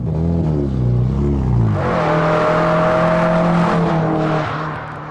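Hyundai Excel driven fast through mud, engine revving hard with rising and falling pitch as it shifts, then holding a steady high drone, loud and close throughout.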